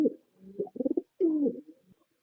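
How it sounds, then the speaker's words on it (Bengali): Beauty Huma pigeons, a pair sitting on two eggs, coo close by in a few soft, low throaty bursts with brief gaps between them. "আরো এক জোড়া বিউটি হুমা কবুতর, এগুলো দুটো ডিম নিয়ে বসে আছে"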